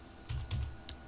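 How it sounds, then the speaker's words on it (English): A few keys are pressed on a computer keyboard, three or four soft, close clicks spaced unevenly over a quiet background, with nobody speaking. "I'm going to type in Dell"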